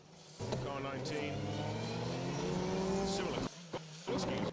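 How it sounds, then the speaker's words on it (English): Two Subaru rally cars on a circuit rally stage, loud engines rising and revving close by in overlapping harmonic tones, then a brief lift-off and renewed bursts of acceleration near the end. "Two Subarus together"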